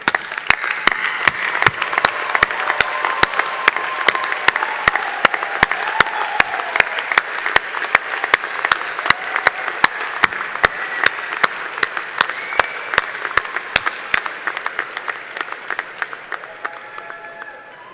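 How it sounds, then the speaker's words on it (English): Large audience at a spring doctoral graduation ceremony gives a loud, sustained round of applause for the graduates' supporters, dense clapping with sharp individual claps on top, fading toward the end. "join me in a loud round of applause for all those amazing supporters"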